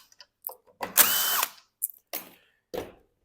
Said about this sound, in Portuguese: Tira aqui os 4 parafusos da tampa.